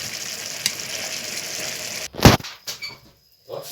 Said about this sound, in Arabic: هننزل بقى ايه بالكفته بتاعتنا في الصلصه مع البطاطس، هتغلي غلوه وهنقفل عليها